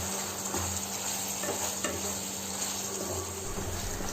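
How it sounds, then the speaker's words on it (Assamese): Duck meat fries on a low flame with ash gourd nearby, giving a continuous steady sizzle with a few soft stirring scrapes and no voices. "5 মিনিটৰ বাবে ল' ফ্লেমত ৰাখি দিলোঁ এয়া চাওক মাংসখিনিৰ পৰা ধুনীয়াকৈ তেল ওলাবলৈ ধৰিছে"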